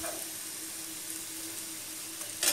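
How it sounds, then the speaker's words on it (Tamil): Bitter gourd pieces frying in hot oil give a steady, even sizzle that holds for the whole stretch, with a faint clatter near the end. "இதே மாதிரி நம்ம கலக்கி வச்சுருக்க எல்லா பாகற்காயும் பொறிச்சு எடுத்துக்கோங்க"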